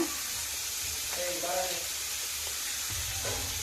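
Onions fry in oil in a pan for a restaurant-style egg chilli chicken, giving a steady, close sizzling hiss for a few seconds with a faint murmur in the background.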